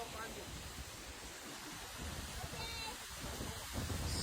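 Icelandic waterfall heard from behind the falling water: a steady, dense roar of pouring water fills the scene, with gusts of wind buffeting close by.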